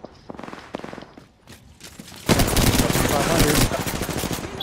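Gunfire in a video game match starts as scattered distant shots, then breaks into a loud, sustained close burst of rapid automatic fire that tapers into a few trailing pops.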